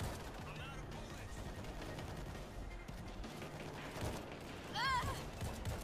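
Rapid gunfire rattles through a zombie shooter set in World War Z, with steady bursts of shots under a noisy mix of game effects, faint and continuous throughout.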